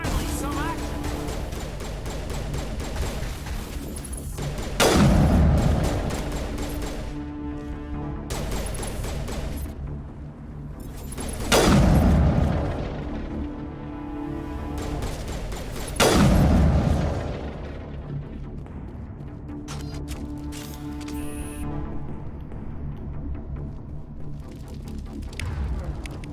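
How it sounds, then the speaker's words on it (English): Explosions and gunfire in the Mass Effect video game: several heavy booms roughly every five seconds with rattling shots and a rumbling battle backdrop between them, loud and close, with someone talking over parts of it. "Explosion."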